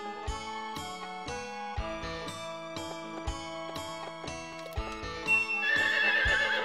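Horse neighing and clip-clopping hooves from the Harvest Moon 64 video game: a steady run of evenly spaced hoof clops with repeated whinnies, loud and alone, with a tinkling jingle near the end.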